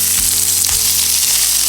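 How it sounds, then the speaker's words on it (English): Onions fry in a pan for a Polish pierogi filling, giving a steady loud sizzle with a few soft scrapes and clinks of stirring, no voices. "Alright, now you're gonna fry some onions."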